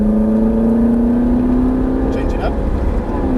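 Ferrari 458 engine accelerating hard on a track, a loud sustained drone climbing steadily in pitch as power is fed in, with a commentator talking over it.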